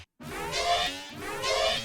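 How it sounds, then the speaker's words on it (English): Two swelling, shimmering swells of a metallic synth pad from the Abyss sample pack, each rising and fading with bright ringing overtones, played alone and clean. "This pad is kind of metallic,"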